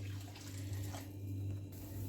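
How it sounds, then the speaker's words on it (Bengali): Water pours steadily into a pot of fried red lentils, a close, continuous gushing splash with a low hum underneath, alone without talk. "জল দিয়ে দিচ্ছি।"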